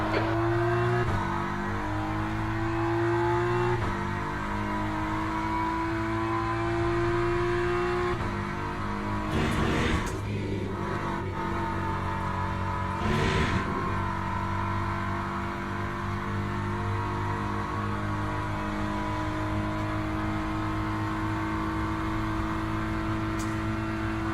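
A BMW GT3 race car engine in the Le Mans Ultimate racing game gives a sustained droning whine with strong harmonics, shifting pitch a few times as it accelerates and decelerates, with no talking.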